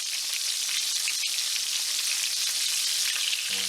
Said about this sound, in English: I'll probably cook them for about 3 to 4 minutes per side